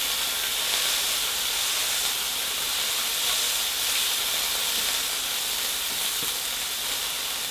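A smash burger patty sizzles on a hot griddle, a loud, dense, steady hiss and crackle that runs unbroken and close throughout with no voices.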